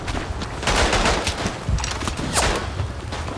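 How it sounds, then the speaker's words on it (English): Artillery and gunfire rumble in the World War I shooter Verdun, a dense, loud barrage of overlapping blasts and bursts with no clear pause. "I put artillery on my gas cloud"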